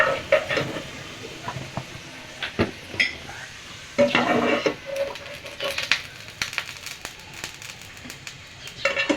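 Chicken balls are lifted out of hot frying oil, and the oil sizzles and crackles steadily while a utensil clinks and scrapes against the pan.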